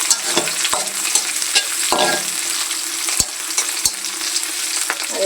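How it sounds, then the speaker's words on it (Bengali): Shrimp with sweet pumpkin frying in a pan, a spoon scraping and stirring through a steady sizzle with several sharp clacks against the pan, close and fairly loud throughout. "একটু ভেজে নেব।"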